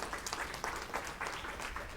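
A church congregation claps together at the end of a Spanish-language sermon, giving a soft, distant patter of applause in uneven bursts for about two seconds.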